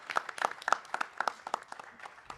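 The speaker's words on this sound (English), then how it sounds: "Give yourself a round of applause for being here." A small audience at an alumni of color network panel event claps in a modest, uneven round, with distinct individual claps standing out rather than a dense roar, fairly quiet and brief.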